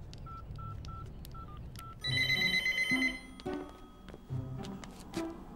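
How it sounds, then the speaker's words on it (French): Faint telephone busy tone of short repeated beeps at an even pace, soon joined by louder, warbling ringing and dialing tones from the phone line. "Ça sonne occupé."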